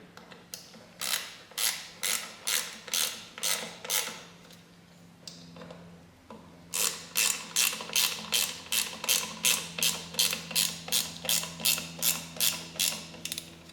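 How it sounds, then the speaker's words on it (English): A hand ratchet clicks in steady bursts while driving bolts into the engine of a 1977 BMW R75/7 motorcycle. Each burst is a quick run of close, crisp clicks, with a short pause before the second half of the sequence. "I'm going to screw them all the way in."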